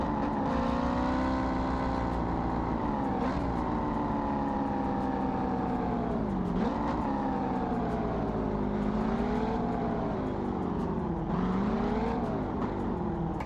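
A rebuilt Corvette C6 ZR1 engine in BeamNG Drive revs hard and holds high, its pitch sweeping up and dipping repeatedly through several pulls, loud, close and steady with no talk.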